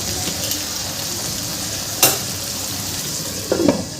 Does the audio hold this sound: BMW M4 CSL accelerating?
no